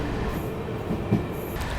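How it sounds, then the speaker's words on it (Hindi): An Amrit Bharat Express passenger train rolls slowly into Prayagraj Junction railway station, a loud steady rumble of wheels and carriages with faint squeals and rail clatter, no voices. "बहुत ही धीमी गति से अपना अराइवल हो रहा है प्रयागराज जंक्शन रेलवे स्टेशन पे।"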